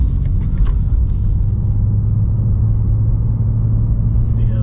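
A steady, deep engine rumble from a 2024 BMW M2 with stock exhaust, idling or cruising, loud and close, with a low droning tone throughout.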